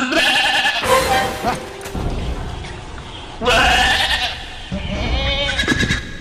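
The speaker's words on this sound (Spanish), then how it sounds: "despertó en mitad de la noche con el balido retumbando en sus oídos" Sheep bleating as a sound effect in a Chilean radio drama, several loud, wavering bleats in succession up close, with a quieter stretch between calls.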